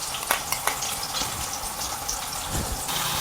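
Ghee hits hot oil in a pan and sizzles loudly with a steady crackling hiss, a few sharp spatters and clinks near the start, while preparing chicken pulao.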